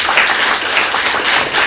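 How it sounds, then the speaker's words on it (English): Audience clapping at a youth awards ceremony, a steady dense wash of many hands at full volume that holds evenly for under two seconds with no talk over it. "Let's give him a round of applause"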